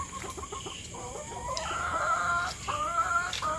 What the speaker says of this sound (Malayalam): ഇത് BB3 കോഴിയാണ്. ഇത് നല്ലപോലെ മുട്ട ഇടും.